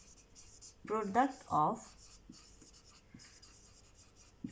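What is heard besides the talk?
writing numbers during a maths lesson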